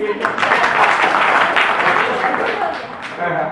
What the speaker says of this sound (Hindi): अरे एक बार ताली बजाइए।